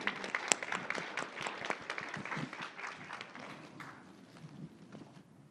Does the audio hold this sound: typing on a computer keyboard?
no